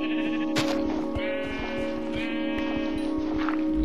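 Minecraft sheep bleat repeatedly in the game, wavering calls layered over a steady tonal hum, with faint footstep-like clicks underneath.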